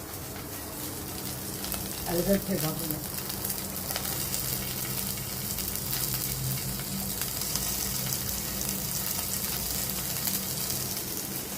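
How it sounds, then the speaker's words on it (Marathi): Potatoes being made into fries sit in hot oil and give a continuous, even sizzle with a brief burst of crackling near the start, steady and close. "आणि आता आपल्याला या तेलांवर हे बटाटे ठेवायचे"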